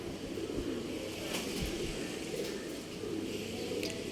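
Old line pigeons held for sale in RT Nagar, Bangalore, coo softly in a few low murmuring phrases against a steady background hiss, with no voices present.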